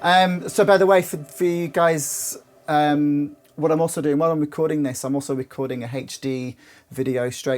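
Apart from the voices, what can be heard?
No everyday noises stand out.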